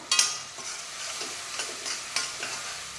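Spinach greens with crushed garlic sizzle and crackle in a hot pan while being stirred, with a few sharper scraping bursts standing out over the steady frying.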